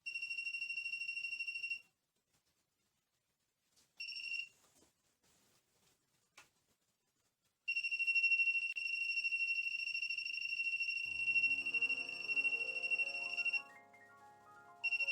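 A voltage tester beside a plasma generator rings with a steady electronic tone in three bursts: one short, one brief, then a long run. Quiet gaps come in between, and a faint clatter of movement runs under the last burst.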